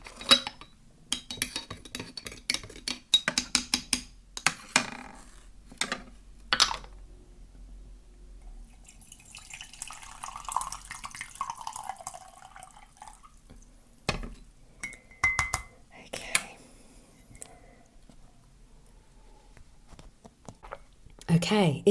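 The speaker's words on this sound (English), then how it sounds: "Let me just give this a bit of a stir." A spoon clinks and scrapes against a mug of green tea in a burst of rapid taps and swirls, close and fairly quiet, with a voice speaking during the quieter stretch that follows.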